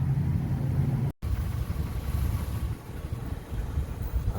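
A car with a gutted catalytic converter being driven for a cruise after the repair, its engine a steady, loud low rumble throughout with a brief dropout near the start, no talking.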